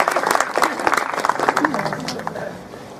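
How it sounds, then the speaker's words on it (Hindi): Audience applause at a Hindi poetry recital (kavi sammelan) in Chittorgarh, a dense burst of clapping from a crowd that thins toward the end, with voices mixed in. "स्वागत स्वागत, तालियां हो जाए आपकी।"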